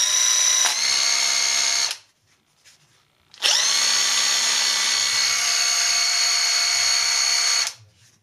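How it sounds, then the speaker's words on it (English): A small cordless Bosch drill whines at high speed in two long bursts, close and loud, with a short silent pause between them and the motor winding up and down at each start and stop. "I really do love this little drill."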